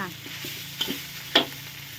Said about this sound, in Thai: ก็ผัดพริกนะจ้า ผัดพริกแกง